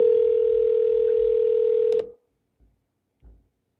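Telephone line tone during an outgoing call, a steady loud tone for about two seconds that cuts off, followed by two faint short blips.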